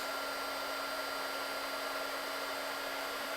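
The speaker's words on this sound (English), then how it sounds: "Turn the heat gun to the maximum temperature and put it real close to the bolt" A heat gun set to maximum temperature blows close against a bolt on a Frigidaire/Electrolux drive pulley, a steady, unbroken whooshing hiss with a fixed whine, alone and constant throughout.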